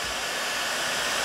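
A hair dryer blows steadily at close range on the carbon fibre roof of a BMW M8 under repair, a continuous broadband whoosh with a low rumble and no pauses.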